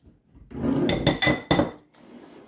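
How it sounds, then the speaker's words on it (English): Spoon scraping and clinking against a bowl while stirring salt, cinnamon and flour together for a pumpkin roll, several sharp metallic knocks in quick succession followed by a fainter clink. "I'm just going to stir all those up so the cinnamon and everything gets all around in the flour."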